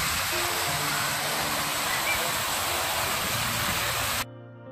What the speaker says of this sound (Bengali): সুন্দর দেখো, ঝর্ণা মতো আসছে, এর সামনে বসতে পারো।